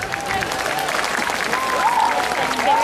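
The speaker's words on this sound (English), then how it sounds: "So another round of applause for that great Anuja board." Crowd applause at an outdoor Diwali festival gathering in San Antonio, a steady broadband clapping wash lasting throughout, with faint tonal sounds and murmur mixed in.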